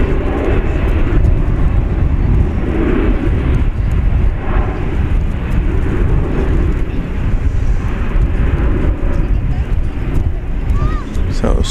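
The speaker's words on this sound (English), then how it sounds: "This is American 2361 off to San Diego" An American Airlines Airbus A321 takes off at Dallas Fort Worth airport with a continuous low, rumbling engine roar. The roar stays strong throughout, with gusty buffeting mixed in.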